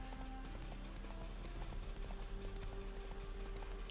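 Geralt's horse Roach in The Witcher 3 arriving with a quick run of hoofbeats, faint and fairly distant, over a steady background hum and music.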